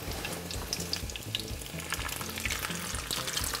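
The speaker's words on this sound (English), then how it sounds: "Let these cook a couple of minutes or until they turn golden brown, and then we'll turn them over" Gluten-free beef taquitos frying in hot oil, a dense, continuous bubbling sizzle heard up close with no voices over it.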